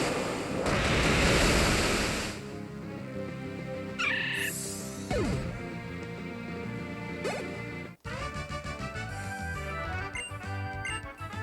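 Waterfall attack in the Pokémon Omega Ruby & Alpha Sapphire demo: a loud roaring rush of water opens, then gives way to chiming battle effects and game music.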